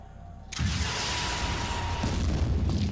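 Weapon fire striking a creature in the Phoenix Point video game: a sudden loud booming blast breaks a near-silent opening, then a dense, roaring wash of noise stays up close and sustained to the end, with no voices.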